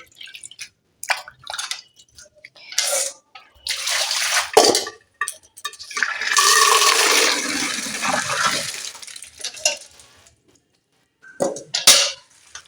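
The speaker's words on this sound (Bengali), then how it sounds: "এক বালতি জলে আবার বেশ খানিকক্ষণ দিয়ে রাখতে হবে" Jute greens (pat shak) are swished and splashed in a bucket of water, with drips and sloshes coming in bursts and one longer stretch of continuous washing in the middle, close and fairly loud.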